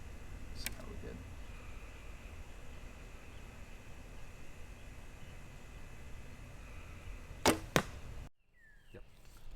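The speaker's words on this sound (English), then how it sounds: "We're gonna shoot this arrow and just kind of wait and listen for the point of impact" A recurve bow arrow is shot outdoors at about 22 yards: a sharp release crack early on, then after a long pause of steady background hiss the arrow strikes the target with two loud thuds, followed by a sudden drop to near quiet.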